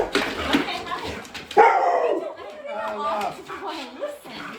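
Dogs bark and yip excitedly on a Halloween evening, short sharp bursts and whimpers scattered under people talking close by.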